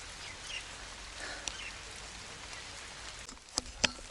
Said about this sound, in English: I'm not very optimistic about rain stopping anytime soon.